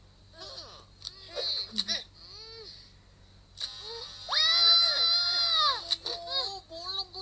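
A cartoon child from Upin & Ipin shrieks and wails while getting a haircut at a barbershop, with high whimpers building to a long piercing scream before trailing into sobbing cries.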